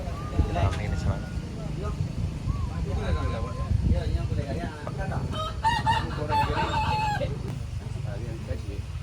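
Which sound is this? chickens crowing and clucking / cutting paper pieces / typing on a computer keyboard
chickens crowing and clucking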